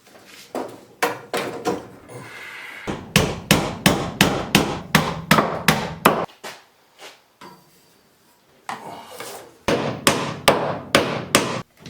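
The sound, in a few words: hammering nails into floor joists to hold PEX pipe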